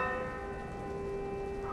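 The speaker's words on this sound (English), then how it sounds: "there's another bell" A bell rings in the video game Bedtime Story, a sustained resonant metallic tone with clear overtones that hangs and slowly fades, fairly quiet and with no talk over it.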